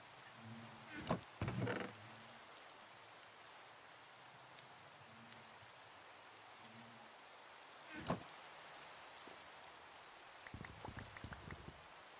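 Soft, steady rain hiss throughout in a Minecraft SkyBees game, with a few scattered thumps and clicks rising above it.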